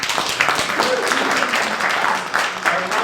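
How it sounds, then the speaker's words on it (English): Audience applause at a stand-up comedy show, a loud, continuous wash of clapping from a crowd, steady across the whole stretch, with a voice speaking faintly underneath. "Nice round of applause over here."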